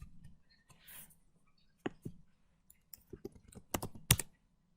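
Someone types on a computer keyboard in the Windows command prompt, with sparse, uneven key clicks that build into a quicker cluster of sharper taps near the end. The sound is close and quiet.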